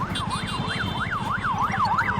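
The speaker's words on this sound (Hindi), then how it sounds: "वहां पर सायरन की आवाजें सुनाई दे रही हैं" Emergency vehicle sirens wail, rising and falling in a steady repeating cycle, loud and continuous over the rumble of traffic and vehicle engines on a chaotic street in Lebanon.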